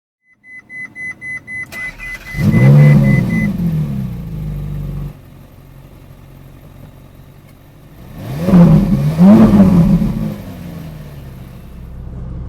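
Ferrari engine starting with a series of quick pulses, then revving hard twice with a deep roar, dropping back to a steady idle between the revs, loud and close.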